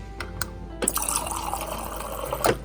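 Water poured into a small shot glass, a brief splash then a rising trickle as the glass fills, close and clear, with a couple of soft clinks beforehand and no talking.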